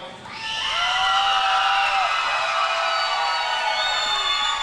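Crowd noise from an audience at an Elevate Fighting Championship MMA event, a loud sustained roar of cheering and whistling, with shrill voices rising above it, that holds steady for several seconds.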